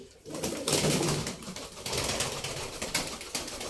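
Pigeons coo close by in a coop, soft repeated throaty calls, with some rustling and faint flutters mixed in.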